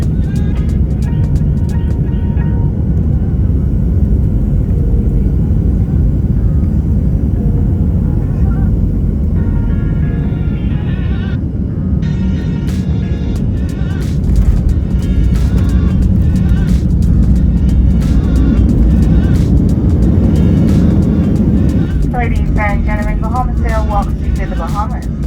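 Inside an airplane cabin descending toward the Bahamas, a constant low engine drone and rumble fills the space, and a person talks over it throughout.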